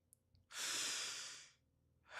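A single deep breath taken on instruction, a long airy inhale or exhale lasting about a second, close and soft, followed by quiet and the start of another breath at the end.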